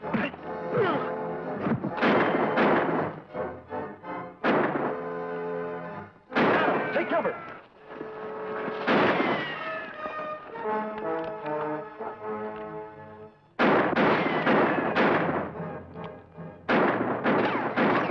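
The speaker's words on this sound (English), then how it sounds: "He'll think we're shooting at him." Gunfire and heavy impacts in a shootout from a Lone Ranger TV series episode, loud repeated bangs and crashes mixed with dramatic orchestral music and voices talking throughout.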